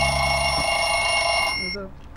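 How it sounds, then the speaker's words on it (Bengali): A telephone rings with a steady electronic trill that stops abruptly, followed by a brief murmur of voices. "দেখো তো কার ফোন"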